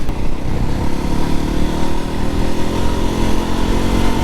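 A 300 rally motorcycle, Voge 300 Rally or Honda CRF 300 Rally, being ridden, its engine droning steadily and loudly close by with a rough, even throb and no talking.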